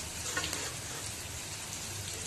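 Raisins and cashews fry in a pan on a low flame for a pulao, making a steady, close, even sizzle with no voices and no pauses.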